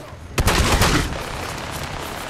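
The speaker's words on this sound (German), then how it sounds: "Schießen!" Gunfire in Fallout 4, a sudden burst of rapid shots fired in a quick cluster, loud and close, then trailing off into a rumbling background.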